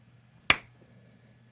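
A single sharp hand clap close by, standing alone against quiet room tone, followed by a faint tap at the very end.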